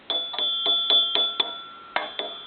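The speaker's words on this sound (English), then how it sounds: "We go with a bell on these because it's more original to the telephone." A bright mechanical payphone ringer bell on a three-slot payphone rings in rapid repeated strikes, about eight in a row with a short pause before the last two, loud and close with a lingering metallic tone.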